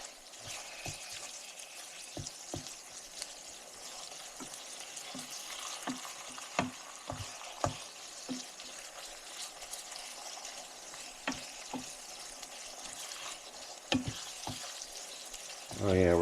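Ground beef browning in a skillet with chili powder for a one-pan Rotel beef dish, a soft continuous sizzle with scattered stirring clicks and scrapes of the utensil against the pan, fairly quiet and close.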